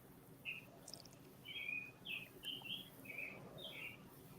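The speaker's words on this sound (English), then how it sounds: "The birds are starting to come out because it's so early here, and you can hear them" Several small birds chirp and sing in short bright bursts at early morning, moderately close and fairly faint over a low steady background hum, with no talking.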